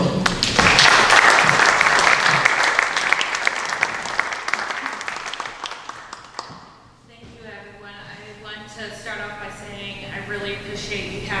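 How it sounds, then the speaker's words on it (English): An audience at a meeting gives a loud round of applause for a guest speaker from the local crisis center. The clapping is dense and bright, then fades out over several seconds and gives way to a voice talking. "do a round of applause"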